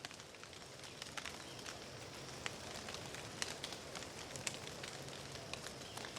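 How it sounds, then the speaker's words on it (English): Heavy rain pours through an autumn woodland on the edge of a storm, a dense steady hiss peppered with sharp close drops pattering on leaves and gear, with no voices. "you might be able to tell it's actually raining pretty heavily"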